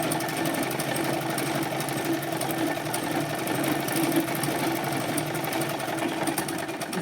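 A sewing machine stitches a straight line over fabric, running in a steady, close, fast mechanical whir with a rapid needle rhythm throughout and no pauses.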